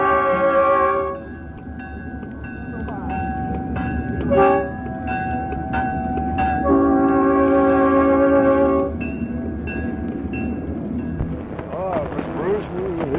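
A train approaches around a bend, its horn sounding repeatedly in long sustained blasts with a steady rumble of rolling cars beneath and a bell ringing, fairly close and loud, with some voices in the background.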